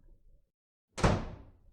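A door in the horror video game ECHO opens with a single sharp thunk that decays quickly, following a faint murmur and a short silence.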